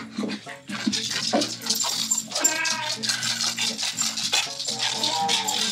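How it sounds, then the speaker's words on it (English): A dog whimpers and whines in high, wavering cries, close and fairly loud, repeating in short drawn-out bursts over soft background rustling. "Your dog's like trying to come help me."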